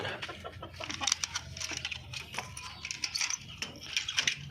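Darag native chickens clucking and pecking as they eat fruit and vegetables, a busy mix of close clucks, scratching and sharp little calls with no talking.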